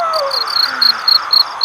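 Steady, rapid night-time cricket chirping in repeated high pulses, with a soft continuous insect drone underneath; no voices.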